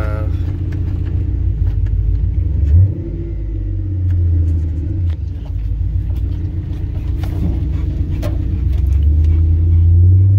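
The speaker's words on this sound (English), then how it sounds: "All right, we'll put it back in drive." A 1992 Chevy truck with a 5.3 V8 and 4L60E automatic accelerates in drive, a loud steady low engine drone that swells and shifts in pitch around three seconds and again near the end, heard close from inside.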